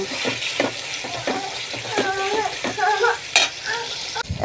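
Meat with garlic and onion paste being stirred in a hot pan for biryani, a scraping, sizzling stir with repeated spoon strokes against the metal, close and fairly loud.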